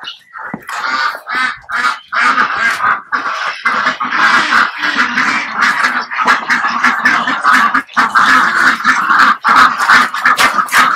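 Pekin, Muscovy and Mallard ducks crowd in at feeding time, a loud, dense chorus of overlapping quacks and honking calls close by, continuous and excited with brief gaps.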